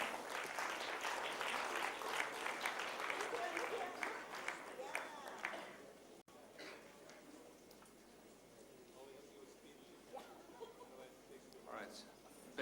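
Audience applause for award nominees at an evening awards ceremony, a dense burst of clapping with a few cheers that dies away about halfway, leaving sparse claps, murmurs and a voice over a quieter hall.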